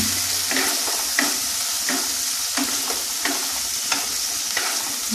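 Spice masala of turmeric powder and mild Kashmiri chilli powder sautéed in a pan for a vegetarian potol malaikari, a steady loud sizzle with repeated scraping stirs of a spoon every second or so, no talking.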